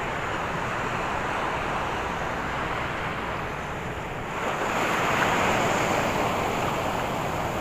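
Ocean waves surge in a continuous broadband roar, with wind buffeting the microphone, swelling louder about halfway through.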